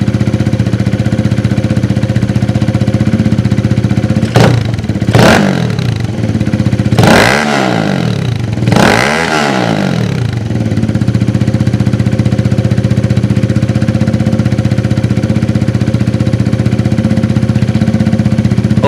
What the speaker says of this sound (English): let's go pump the throttle a couple times so you can